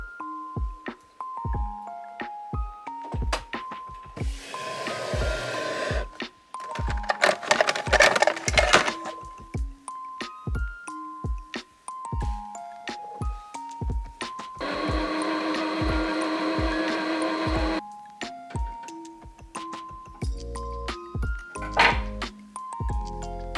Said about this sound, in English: A lot of them instruct using a zigzag stitch, so I'm testing a couple of options.